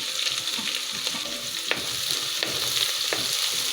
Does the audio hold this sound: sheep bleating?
no